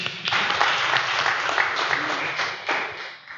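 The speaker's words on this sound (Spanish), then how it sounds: "Aplausos." Members of a Sunday church congregation break into applause, a brief burst of lively clapping with voices mixed in that swells quickly and begins to fade within a few seconds.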